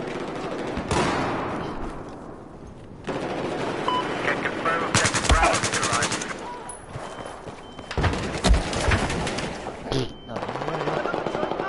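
Loud automatic gunfire from Battlefield 4 arrives in long, rapid bursts separated by short gaps, with a player's voice speaking briefly over the shooting.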